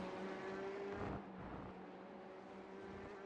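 A race car engine in the iRacing simulator drones steadily at a fairly faint level. Its tone shifts slightly about a second in, then holds an even hum with no talk over it.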